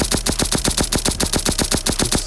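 Assault rifle in the Roblox-style shooter Bad Business fires full-auto with a recoil macro, a loud, steady stream of rapid evenly spaced shots running continuously without pause.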